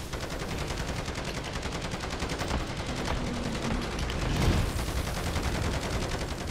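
Steady automatic gunfire in a Call of Duty match, dense rapid bursts of shots running throughout at close range, with a louder cluster of shots and heavier impacts building toward the end.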